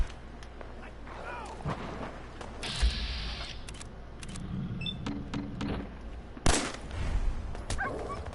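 A dog companion barks in Fallout 4 amid game noise, a few sharp barks mixed with gunfire-like bursts and mechanical sounds, fairly distant and muffled in a busy, cluttered soundscape.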